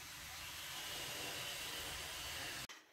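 A samovar gives off a steady, loud broadband steam hiss that fills the space. It cuts off sharply near the end, leaving only faint low rumble behind.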